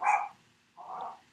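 A dog barks twice indoors, two short close barks separated by a brief pause.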